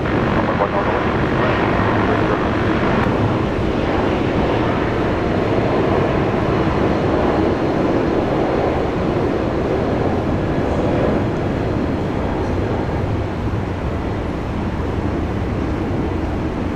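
A Velocity airliner on approach to runway 19 left at Brisbane International Airport, a loud, steady broadband engine roar that holds unbroken throughout, with voices faintly present beneath it.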